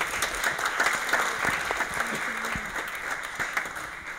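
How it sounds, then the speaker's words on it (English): An audience applauds at a film presentation at the Leffest 2014 festival. The dense, continuous clapping from a roomful of people is moderately loud and steady from start to finish, with no speech over it. "we should applaud this"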